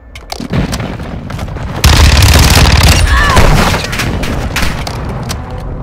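Airstrike explosions and heavy gunfire in Call of Duty: Modern Warfare II, with scattered shots followed by a loud sustained roar of blasts and rapid automatic fire, close and dense.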